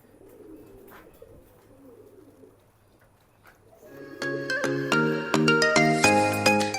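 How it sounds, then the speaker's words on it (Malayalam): A native domestic pigeon gives soft, low cooing in the first seconds, then a loud melodic electronic tone takes over and drowns it out. "ഇത് നാടൻ പ്രാവ്"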